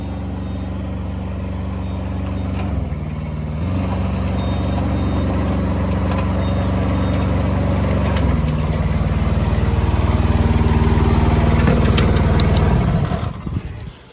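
A 60HD+ machine's engine runs loud and steady while it is driven by remote, its drone shifting pitch a few times as it moves, then cutting off near the end; no speech.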